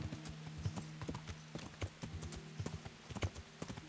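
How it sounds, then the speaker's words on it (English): A fast horse gallops in the video game Kingdom Come: Deliverance, its hooves beating a quick, steady clip-clop rhythm that stays close and clear across the few seconds. "Dang, this is a fast horse"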